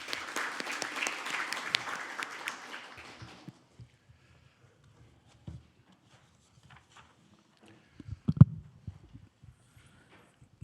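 An audience at a Korean science and technology policy forum breaks into applause to welcome a speaker, a dense burst of clapping for about three seconds that then fades to sparse scattered claps and room noise.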